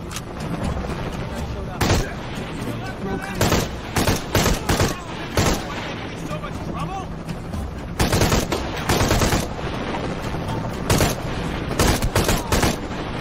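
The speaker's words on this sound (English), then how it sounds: "Oh, I got a fucking machine gun. Shit, there's more of them." Machine gun fire in Shadow of the Tomb Raider, an action video game: repeated loud bursts of automatic gunfire in rapid clusters throughout, with short gaps, amid ongoing combat noise.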